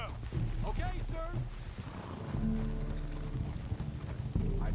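Horse hooves clip-clop in a steady rhythm in the video game Red Dead Redemption 2 while voices talk over them, and a horse whinnies briefly.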